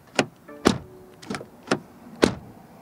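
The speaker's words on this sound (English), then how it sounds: "Then door closing sound." A series of five sharp thuds of a BMW X1 M Sport's car doors shutting, spaced about half a second apart, close by with quiet between.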